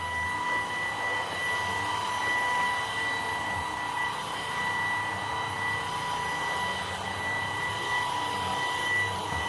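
Maircle S3 stick vacuum running on carpet outside a front door, a steady whining drone with constant tonal hum at moderate volume, with faint talk beneath it.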